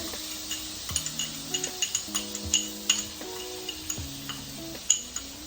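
Minced garlic sizzles in butter in a pan for shrimp scampi, with a continuous frying hiss. Frequent sharp clinks of a utensil against the pan ring out over it, close and clear.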